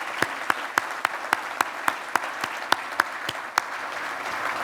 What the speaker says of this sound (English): Let's give the Portsmouth City Council a round of applause